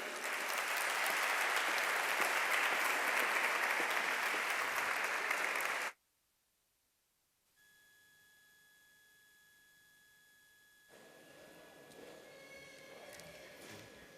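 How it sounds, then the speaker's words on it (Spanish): Loud, sustained audience applause at an annual gala for the Toro de Cuerda festival in Grazalema, filling the first six seconds before cutting to near silence and a faint room tone with a steady tone. "Fuerte aplauso para Julio Sedeño."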